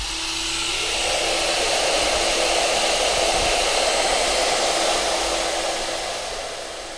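An Origin handheld CNC router cutting marquetry, a steady high-pitched whine with a continuous broadband hiss that holds level for several seconds before easing off, close and fairly loud with no voices.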